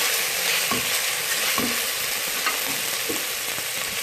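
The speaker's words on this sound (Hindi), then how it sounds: "चिकन को हमने थोड़ा सा फ्राई किया, थोड़ा सा इसका कलर चेंज हो गया।" Chicken sizzling and frying in a pan with whole spices for an aloo chicken shorba, a steady crackling hiss with occasional stirring clinks, close and continuous throughout.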